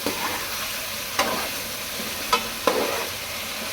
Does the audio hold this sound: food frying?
yes